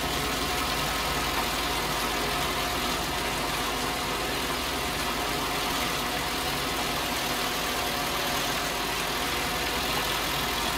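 A sugar beet harvesting machine working a wet field in 1968 runs its engine in a steady, unbroken drone that stays loud and close throughout, with no voices.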